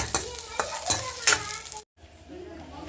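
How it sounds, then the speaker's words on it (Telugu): Ginger and green chillies frying in a pan, a soft sizzle broken by several sharp stirring clanks of a spoon against the pan, then a brief silent gap before quieter sizzling resumes. "అల్లం పచ్చిమిరపకాయలు బాగా వేగుతూ ఉన్నాయి"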